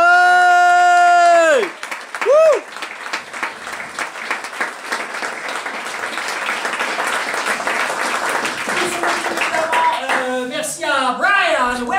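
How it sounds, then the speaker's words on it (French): A studio audience breaks into a loud, sustained round of applause for a television crew and team, starting after a brief spoken introduction and building into dense clapping, with voices returning over the end. "Moi, je voudrais que vous fassiez un tonnerre d'applaudissements à toute l'équipe."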